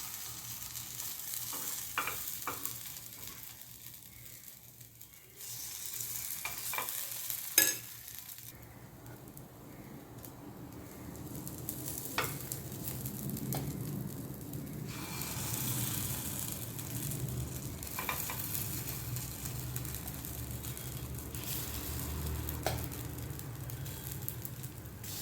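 Appe batter sizzling in an oiled appe mold pan, with a steady crackling frying hiss that runs throughout, a few sharp clicks and taps near the start, and no talking.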